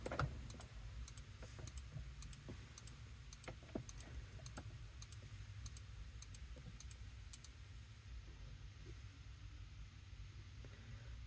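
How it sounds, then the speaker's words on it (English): Quiet, evenly spaced electronic clicks from an OBD2 scanner tablet during a software update tick along steadily over a low background hum, soft and close. "It plays a little sound while it's updating, like a clicking noise."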